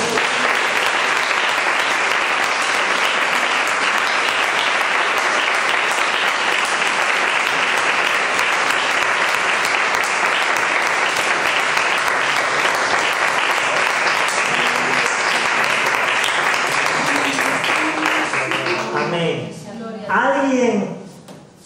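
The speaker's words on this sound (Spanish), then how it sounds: "Le damos un aplauso a Jesús." A church congregation applauds during a Spanish-language sermon, a loud, sustained wash of clapping lasting nearly twenty seconds before fading as a voice resumes speaking.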